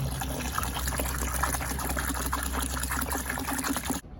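Water gushes steadily into a wash bucket for a no-rinse car wash, a continuous close pour lasting about four seconds before stopping abruptly.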